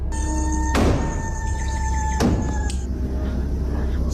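On a CCTV recording in front of a house, two sharp, loud bangs on a door about a second and a half apart, then a softer third knock. A steady tonal hum runs underneath.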